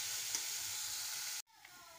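Two onions sizzle steadily in hot oil in a home kitchen, frying until reddish for a fenugreek-leaf vegetable dish; the close, even hiss cuts out briefly near the end, then resumes more quietly.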